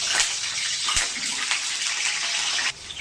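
Potatoes dropped into hot oil in a kitchen pan give a loud, steady hissing sizzle close by, easing off slightly near the end, with no talking.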